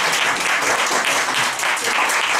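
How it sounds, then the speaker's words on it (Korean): An audience at a lecture on software technology and convergence education claps in a dense, sustained round of applause that fills the whole moment. "다시 한번 박수 한번 드리겠습니다."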